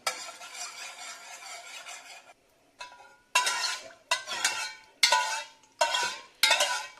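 A spoon stirs orchid nutrient medium in a pot until the ingredients dissolve: a steady scraping swirl, then a short pause and five distinct rhythmic stirring strokes, close and clear.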